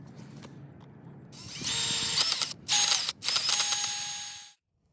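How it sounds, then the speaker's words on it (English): Power drill fitted with an end mill boring into a plant sensor sleeve: a high whining spin-up that runs in three bursts with brief pauses between, close and loud, after quiet room tone. "we're going to drill into the sleeve up until it stops, like so"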